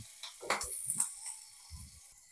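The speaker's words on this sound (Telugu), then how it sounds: "చిన్న చిన్నగా తరుక్కున్న ఉల్లిపాయ ముక్కలు, ఎక్కువ ఫ్రై అవ్వాల్సిన అవసరం లేదు." Finely chopped onions frying lightly in a pan give a soft sizzle, with a few quiet stirring scrapes and clinks breaking through; no one speaks.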